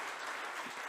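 Steady applause from an audience at a master's art history research presentation competition, dense and continuous crowd clapping throughout with no clear talk.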